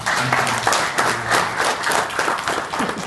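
An audience at a ceremony honoring Asian Para Games 2018 athletes applauds, a lively burst of many hands clapping with uneven rhythm and a few faint voices underneath.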